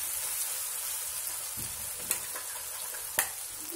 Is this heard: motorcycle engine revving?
no